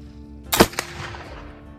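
A single sharp black powder gunshot cracks loudly near the microphone, trailing off into a brief echo and quiet background. It is the third shot in a test of milled high-performance powder.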